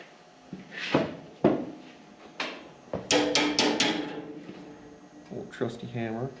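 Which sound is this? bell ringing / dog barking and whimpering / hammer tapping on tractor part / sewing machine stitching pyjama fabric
hammer tapping on tractor part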